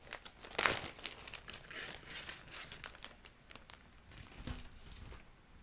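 A plastic bag crinkles and rustles in bursts as a model kit decal sheet is unpacked, close and fairly quiet, with sharp crackles among softer handling noises.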